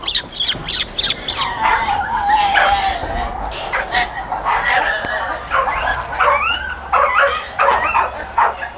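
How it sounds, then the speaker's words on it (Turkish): Dogs at a Staffordshire terrier kennel make a busy, continuous mix of yips, whimpers and short barks, fairly close, with birds chirping in the background and no talk. "Burada da diğer köpeklerimiz var."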